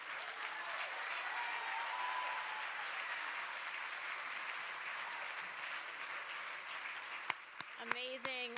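Audience at a Black Canadian voices event gives sustained applause, a steady broad patter of many hands clapping that thins near the end as a voice starts to speak.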